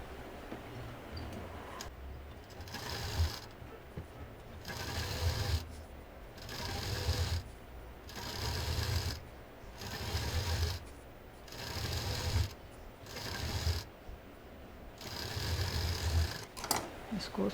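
A sewing machine stitching along doubled fabric runs in several short bursts of steady, fast whirring and clacking, separated by brief pauses, close by.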